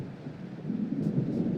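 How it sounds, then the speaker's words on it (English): A deep roll of thunder from an approaching storm in the video game Alan Wake rumbles low and heavy, swelling louder toward the end, with a faint hiss of rain behind it. "It seems there's a storm coming."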